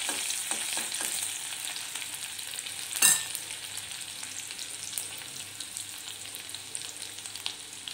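Chopped ginger and green chillies fry with cumin seeds in a pan, a steady close sizzle with a few spoon scrapes early on and one sharp clink partway through.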